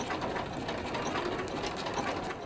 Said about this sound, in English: When Barbara Olson sits down at her sewing machine, she listens for a rhythm.